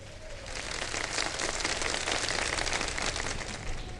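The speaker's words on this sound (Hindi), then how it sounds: "ऑडियंस के लिए तालियां।" Studio audience applauding on a Ramadan iftar TV show, a steady dense wash of many hands clapping at moderate loudness throughout, with no talk over it.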